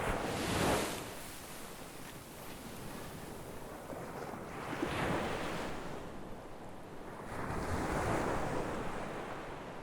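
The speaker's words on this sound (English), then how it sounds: "for a while I just stood there, listening to the surf" Ocean surf rolls in and breaks in three slow swells about four seconds apart, each a soft wash of foam that fades before the next, with light wind hiss underneath.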